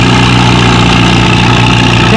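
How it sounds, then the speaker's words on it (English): A Massey 55 tractor engine runs at a spring tractor pull on rain-soaked clay, hooked for the 7,000-pound, 4 mph class. It gives a loud, close, steady throbbing drone with no pauses. "here comes that Massey 55 again"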